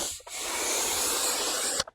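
A close, steady hiss of Koch Chemie Green Star cleaner sprayed onto a dirty rubber car mat runs for under two seconds, starting and ending with short bursts.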